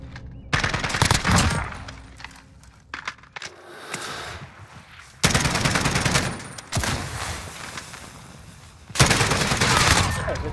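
Rapid automatic gunfire from a shooter video game, loud bursts and sustained volleys cutting in and out with brief quieter gaps between them.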